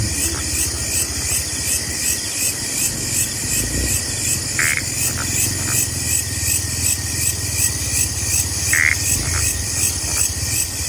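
Frogs and crickets fill the night at a riverside campsite in Tanay, Rizal, with a dense, constant chorus of shrill chirping and buzzing, punctuated by a few brief croaks nearby.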